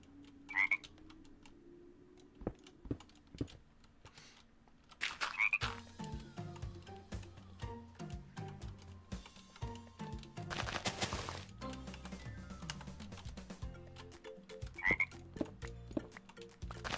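Two clear croaks ring out from frogs in a Minecraft zoo mod, one near the start and another near the end, with a third in between, over game music and scattered clicks.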